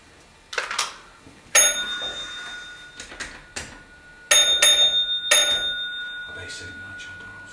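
Bell codes ring in the Wigan Wallgate railway signal box: sharp, close metallic strikes in short clustered groups separated by quiet gaps, with faint background activity between rings.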